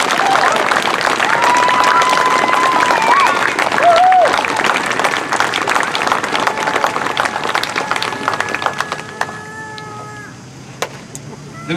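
An outdoor crowd applauds a band at a July 4 concert: sustained clapping and cheering, with whistles and a few voices mixed in, gradually thinning toward the end.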